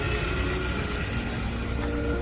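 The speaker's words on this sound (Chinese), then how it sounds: "发动机一打就着" A 2014 Wuling Rongguang double-row van with about 90,000 km runs just after starting, a steady, even engine drone close by with no voices.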